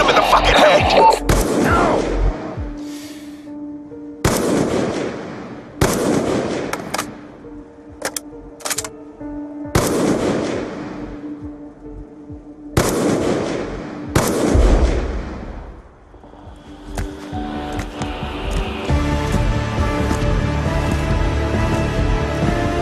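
Heavy gunfire from a Call of Duty video game, with repeated loud shots and explosive bursts separated by short pauses, ending in sustained rumbling combat noise.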